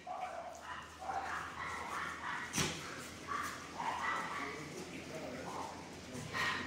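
Dogs at an animal shelter bark and yip in scattered bursts, some near and some farther off, over a continuous background of people talking.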